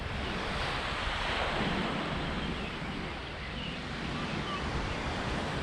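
Surf rolls onto Hac Sa Beach in Macau as a continuous broad wash of breaking waves mixed with wind buffeting the microphone, steady and fairly loud, with no voices.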